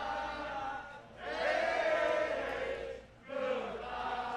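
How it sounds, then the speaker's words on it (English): Wrestling arena crowd jeering a struggling wrestler, swelling waves of loud booing and shouting that dip briefly before rising again, no distinct talk on top. "Crowd giving it to him early."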